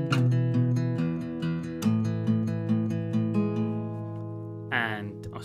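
Fingerpicked acoustic guitar plays the opening of a song, ringing chords and arpeggiated notes up close, ending with a brief bright slide or strum.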